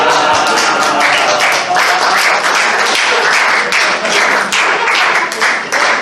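Loud, close audience applause at a furry convention comedy panel, a dense burst of many hands clapping that holds steady for several seconds with faint voices mixed in.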